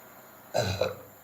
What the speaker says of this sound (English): it's making me belch